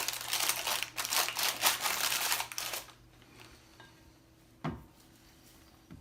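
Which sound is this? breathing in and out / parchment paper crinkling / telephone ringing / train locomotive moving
parchment paper crinkling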